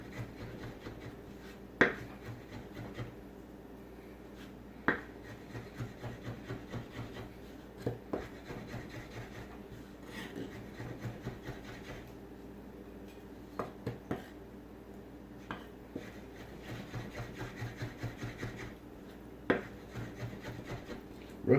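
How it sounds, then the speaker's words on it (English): Roasted garlic being mashed into a paste, with soft, quiet scraping and rubbing strokes punctuated by occasional light taps of a utensil against a bowl, faint and close. "I'm actually going to mash up our roasted garlic into a nice little paste"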